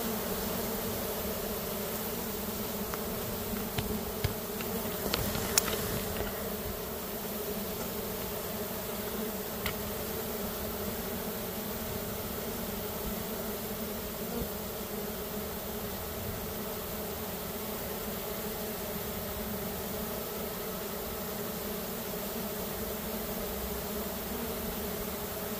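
A steady, dense swarm of bees drones continuously around a collapsed honeycomb during a bee rescue, close and unbroken throughout.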